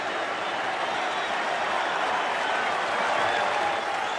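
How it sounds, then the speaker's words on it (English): A baseball stadium crowd, including Rangers fans behind the dugout, applauds a Miguel Cabrera postseason home run: dense, steady clapping and crowd noise that fills the whole stretch at an even, loud level. "even the Rangers fans behind the dugout applaud this as Cabrera comes back to the bench"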